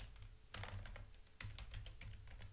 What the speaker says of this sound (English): I will type in a password here